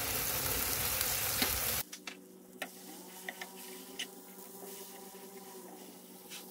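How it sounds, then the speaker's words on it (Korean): A knob of butter melts in a pan for Spanish lemon-garlic butter pen shell scallops. It gives a loud close sizzle for about two seconds, then drops to faint scattered ticks and pops over a low steady hum. "버터 한쪽을 넣고 녹여줍니다"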